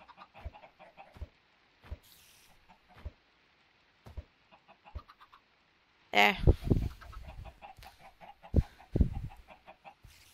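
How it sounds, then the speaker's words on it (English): Minecraft chickens clucking in short separate bursts at first, then a denser, louder flurry of clucks toward the end, with a brief spoken word. "The chickens are being loud, noisy fucks."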